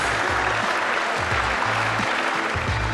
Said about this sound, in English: gives Shane Van Boening a round of applause.